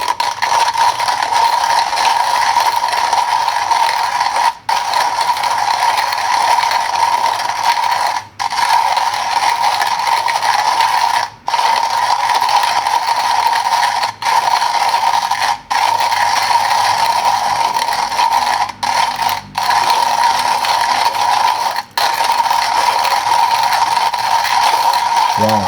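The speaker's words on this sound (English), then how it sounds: "let's grind these beans" Coffee beans run through a hand grinder set at 30 clicks for pour-over, giving a steady, loud mechanical grinding churn that carries on almost without pause, broken only by a few brief gaps.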